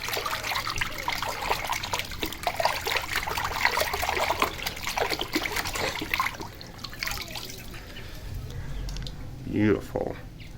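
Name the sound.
controller being dipped and swirled in hydro dip water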